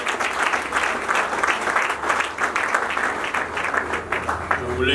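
A church congregation applauds and acclaims in sustained, dense clapping that stays steady and fairly loud throughout, with voices mixed into the crowd noise.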